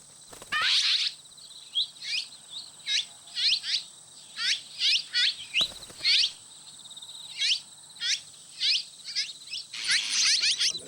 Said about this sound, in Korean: 물까치입니다.